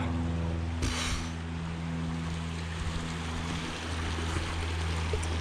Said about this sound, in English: But what a beautiful little creek this is.